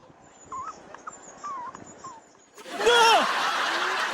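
A distressed dog whimpers in short, high, wavering whines at close range, followed by a louder, noisier stretch of whining and other sounds.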